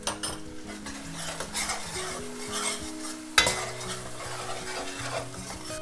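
Spices such as turmeric and red chili powder going into a dal tadka, stirred in a pot with a soft sizzle, clinking and scraping of a spoon against the metal, and one sharper clank partway through.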